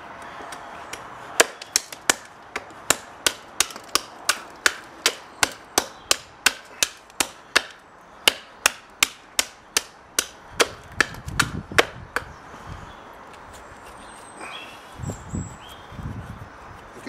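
A knife strikes wood in a steady chopping series, about two dozen sharp, loud cracks at a regular pace, followed by a few scattered softer knocks and light handling noise.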